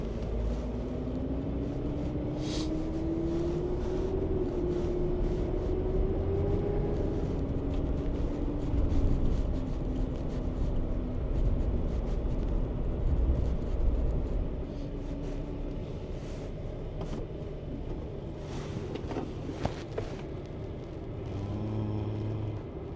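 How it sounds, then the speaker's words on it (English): A diesel car on a test drive, with engine and road rumble running steadily throughout, a rising and falling engine tone, and occasional clunks and rattles over the drive. "Okay, now I just want to go for a test drive."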